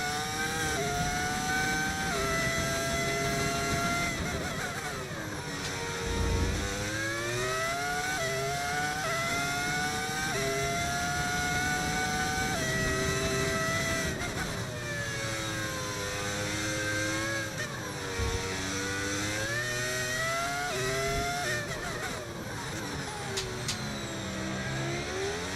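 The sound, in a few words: V10 racing car engine in video game F1 25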